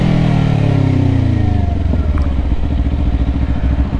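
A 2024 Kawasaki Ninja 500 motorcycle engine roars loudly up close, pitch climbing under acceleration, then dropping and settling into a lower steady rumble after a gear shift.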